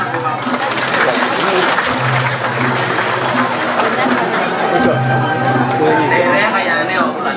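Audience clapping and crowd chatter at a Balinese drama gong theatre performance, a dense, loud wash of applause mixed with babble and a voice speaking over it.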